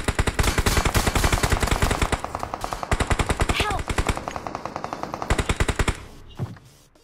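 Rapid automatic gunfire in a battle royale video game, long sustained bursts of evenly spaced shots with brief pauses, loud and close, ending in a few scattered sounds.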